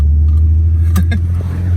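VW Mk4 VR6 12-valve with a tune idles with a deep, steady engine rumble, broken near the middle by a couple of short sharp pops from the rolling two-step limiter, recorded close by.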